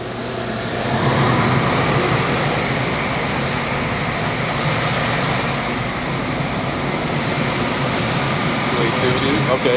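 A new Honda Civic Type R engine runs on a dyno, a steady, loud mechanical hum and drone that swells after the first second and holds evenly, with voices talking over it.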